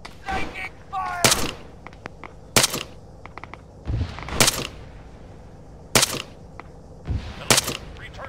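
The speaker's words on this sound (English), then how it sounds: "Enemy fire!" Enemy gunfire in the combat game Arma 3 comes in sharp, loud bursts of shots at irregular intervals, some cracking close and others sounding more distant, with a faint voice at one point.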